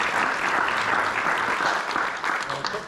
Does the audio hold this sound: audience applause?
yes